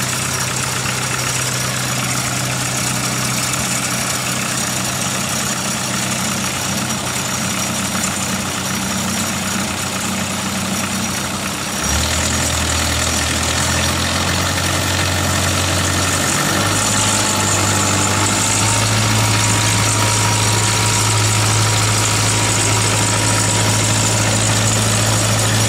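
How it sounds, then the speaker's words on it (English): A dredge's diesel engine starts and settles into a loud, steady idle. The deep rumble steps up in pitch and intensity partway through and then holds a constant drone with no talking. "And now I can start the engine."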